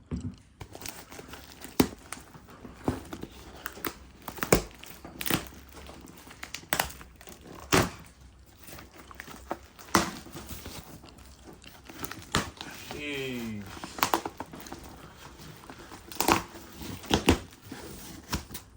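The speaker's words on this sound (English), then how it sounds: "we about to open the box right now" A cardboard shipping box holding a bulk clothing order is sliced open and unpacked, with continuous crinkling, tearing and rustling plus sharp crackles up close, and a brief voice partway through.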